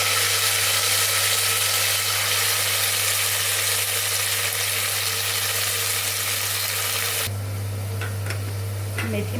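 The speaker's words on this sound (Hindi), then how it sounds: "लहसुन हमारा ब्राउन हो गया है, इसमें डालेंगे मेथी।" Chopped fenugreek leaves go into a pan of browned garlic for Sindhi methi rice, giving a loud, steady sizzle and crackle up close that drops and softens near the end, with no talking.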